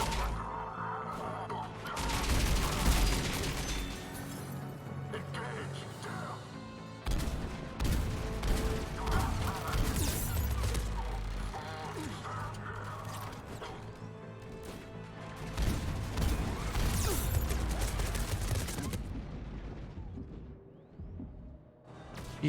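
Turrets fire in Mass Effect 3, a dense barrage of crashing gunfire and mechanical bursts that runs loud almost continuously, swelling in several heavy waves with brief dips between.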